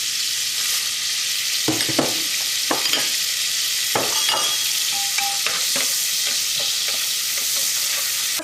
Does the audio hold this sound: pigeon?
no